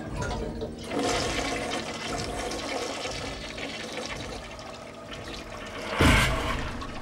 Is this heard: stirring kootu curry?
no